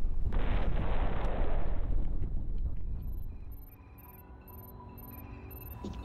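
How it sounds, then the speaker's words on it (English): An explosion sound effect in a space delivery game starts as a sudden broad blast with a rumbling roar that slowly fades over a few seconds. Faint electronic tones and a soft hum follow, and there is no talk. "I'm pretty sure that sounded like an explosion."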